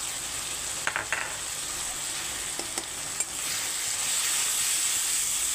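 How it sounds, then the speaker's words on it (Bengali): Ground chili, turmeric, coriander, cumin and salt fry in a pan for chicken kurma, making a steady bright sizzle with a few scattered stirring clicks and scrapes. The hiss swells a little louder toward the end, and no one speaks. "তো মশলা দিয়ে আমি 2 মিনিট এখন কষিয়ে নেব ভালো করে"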